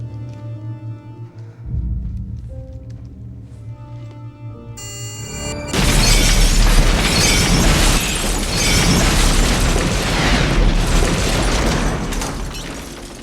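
Music plays quietly, then a bomb in a house suddenly blasts loudly, erupting into a sustained roaring rumble of debris and crackling that lingers for several seconds.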